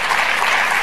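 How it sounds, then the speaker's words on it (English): Brief burst of audience applause for the speakers at a community center conference, a loud, dense wash of clapping filling the moment. "I want to give a huge round of applause to all the great speakers today"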